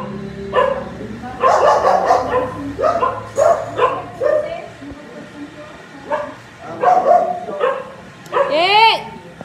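A dog barks repeatedly in a run of sharp, loud yaps and bow-wows, some ending in a whimpering yip, with a person speaking over the barking.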